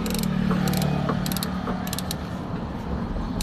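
Automatic ratchet wrench turning a bolt during an oil change on a Mitsubishi Lancer with a 4G13 engine, several quick bursts of close metallic ratcheting clicks over a steady mechanical hum.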